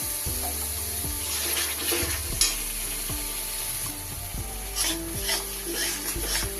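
Tomato paste cooking in a pan for matar paneer ghugni, a soft sizzle under repeated scraping stirs from a spoon, each stroke a short knock in an irregular rhythm, fairly quiet and close.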